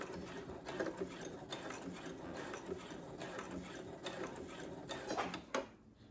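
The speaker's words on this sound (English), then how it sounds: "And then let me go ahead and back stitch." A Brother sewing machine back stitching, a fast close mechanical needle chatter that runs steadily, speeds and pauses briefly, then halts with a final clunk, with no talking.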